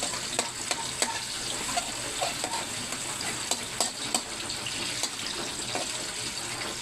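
Garlic and onion sauté in a pan, giving a steady broadband sizzle with scattered sharp clicks and scrapes of stirring, close and even throughout, no voices.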